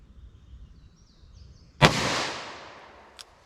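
A single sharp gunshot from a 3-inch .38 Special revolver firing 125-grain ammunition, loud and close, with a long decaying outdoor echo and a faint second crack about a second later.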